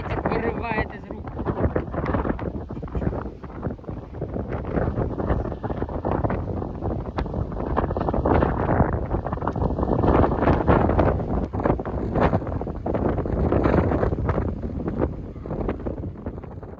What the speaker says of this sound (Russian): потому что ее прямо ветер вырывает из рук.